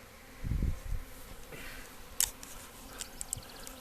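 A swarm of honeybees being caught, heard as soft, close buzzing with a few louder bursts from bees passing near, while light handling noises and rustles run underneath.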